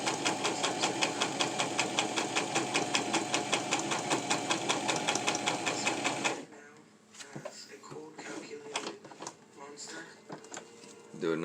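Sewing machine stitching a quarter-inch seam on a fabric face mask, a steady rapid mechanical chatter for about six seconds that then stops, leaving quieter handling noises.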